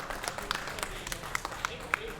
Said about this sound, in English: Round of applause again for Meeks taking 5th here at Fullerton Fights number 14.